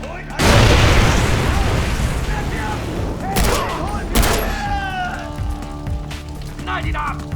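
An explosion in the video game Far Cry 3 erupts with a loud boom followed by rumbling debris, then further sharp blasts, while people talk over the game sounds.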